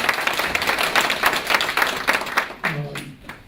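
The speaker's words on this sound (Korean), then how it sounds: "이 시장님께도 크게 박수 한번 부탁드립니다." An audience at a 2015 neighborhood city-policy briefing in Sinbaek-dong applauds the mayor with dense, loud clapping that breaks off near the end as a voice begins.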